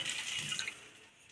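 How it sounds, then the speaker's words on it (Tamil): Milk and water pour softly into a pot, a faint trickling splash that fades out near the end. "பாலும் தண்ணியும் விட்டாச்சு"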